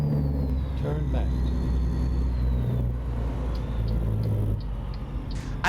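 A Jon Ruda Classic XL truck's exhaust Jake brake in American Truck Simulator: a low, steady, rumbling engine drone with a throaty pulsing texture, loud and continuous, with a few faint higher electronic tones over it.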